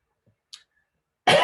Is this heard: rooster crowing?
no